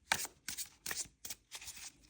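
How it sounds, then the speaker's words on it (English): Playing cards being shuffled by hand, heard as five quick riffling bursts at an even pace, close and clear with no talking. "let's shuffle a little bit the cards"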